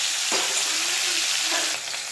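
Hilsa fish frying lightly in oil, with a loud, close, continuous sizzle over two seconds and a couple of brief spatter bursts.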